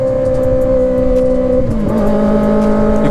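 A Kawasaki ZX motorcycle with a loud aftermarket exhaust drones steadily and close, its engine tone holding level and then shifting pitch slightly partway through.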